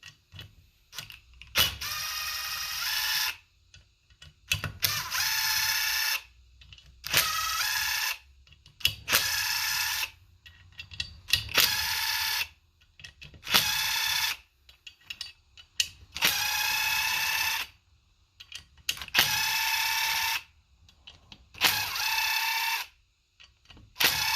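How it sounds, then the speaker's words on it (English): A ratchet with an 8mm socket loosens cam cap bolts on a Coyote 5.0 cylinder head, bursts of rapid clicking repeated about ten times with short pauses between, close and loud with no talking. "When you're removing the cam caps, you want to use an 8mm socket."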